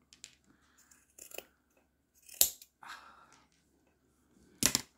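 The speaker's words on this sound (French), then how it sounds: "Ce que je vais faire, c'est que je vais déjà couper un petit peu les cheveux." Scissors snip the yarn hair of a small pompom doll, a few short, sharp cuts spaced out with faint handling rustles in between, close and quiet.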